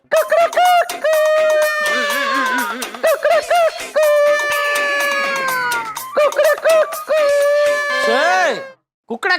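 A man imitates a rooster crowing in a loud, drawn-out series of wavering cock-a-doodle-doo calls, repeated several times close to the listener with brief pauses between them.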